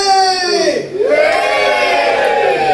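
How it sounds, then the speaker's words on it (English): A comedy festival audience in Leicester cheers and whoops loudly for a comedian, a crowd of voices rising in a sustained shout that dips briefly and then swells again. "Give me a cheer if you're ready for me!"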